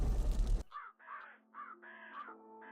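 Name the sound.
crow cawing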